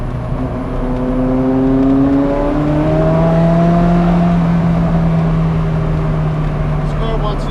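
A Ferrari F40 engine revs hard on a mountain road, loud and close, with rising and falling pitch sweeps as it accelerates through the gears, filling the whole stretch without pause.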